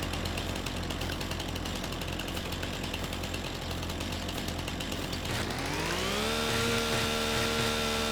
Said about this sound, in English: So now, what I gotta do is get the chainsaw.